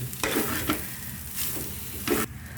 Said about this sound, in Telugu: కింద మీద ఇట్లా మొత్తం మిక్స్ చేసుకోవాలన్నట్టు